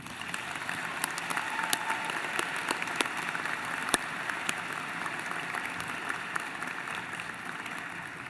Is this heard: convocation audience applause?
yes